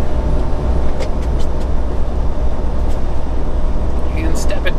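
A heavy truck cruising at highway speed in top gear, twelfth gear, at about 1200 RPM, giving a steady, continuous low engine and road drone inside the cab with faint clicks and rattles.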